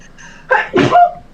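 A person sneezes once, a loud close burst preceded by a short sharp intake of breath, with no talking.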